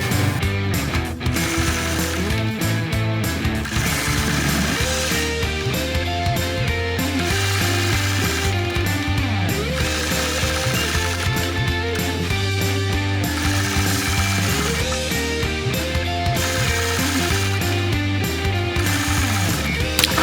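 A sewing machine quilting scallops on a pineapple quilt block along a Sway Baby ruler, running loud and continuous with a dense, fast mechanical chatter for about twenty seconds and no voices.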